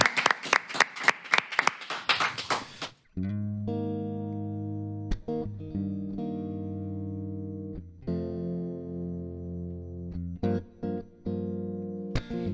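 A live concert audience claps in a quick burst of applause for a singer, then the clapping stops and sustained electric guitar and keyboard chords take over, with a few scattered claps between.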